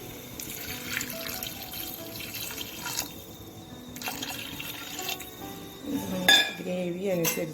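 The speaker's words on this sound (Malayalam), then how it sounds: "ഇപ്പം നമുക്ക് കറിക്ക് ആവശ്യത്തിനുള്ള വെള്ളം ചേർത്ത് കൊടുക്കാം" Water poured into a tomato curry in a pressure cooker, a steady watery pour with clinks of a metal pot and utensils, ending in a louder clatter and splash near the close.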